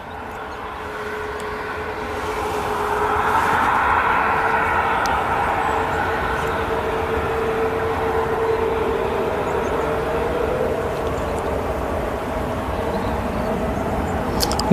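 An Airbus A320neo airliner arriving at Manchester Airport gives a steady, broad engine roar that swells in the first few seconds and then holds, with no talk.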